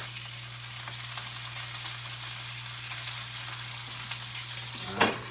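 Bacon slices frying in a pan with eggs nearby, a steady close sizzle with a low hum underneath and a brief louder crackle near the end.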